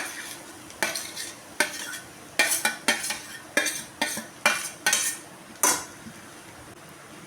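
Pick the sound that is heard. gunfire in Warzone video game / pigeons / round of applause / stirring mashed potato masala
stirring mashed potato masala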